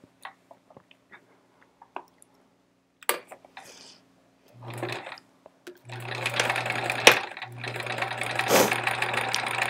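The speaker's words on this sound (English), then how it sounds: "This is good practice for sewing straight." A sewing machine stitches quilt block pieces in a straight seam. Scattered soft handling sounds come first, then a short burst of running, and then a long, steady, fairly loud whir of stitching.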